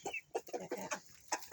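Several chickens of mixed breeds in a backyard flock cluck in short, uneven bursts close by, with brief pauses between calls and no talking.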